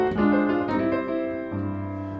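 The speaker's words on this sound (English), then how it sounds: "this is a blues turnaround, and it sounds like this" A short blues turnaround in C: a quick descending run of a few struck notes settling onto a low sustained chord, played close and clear with no voices.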